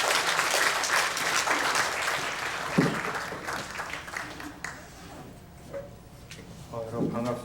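A church congregation claps at a creation-science seminar, the applause loud at first and then thinning out into scattered claps and faint voices.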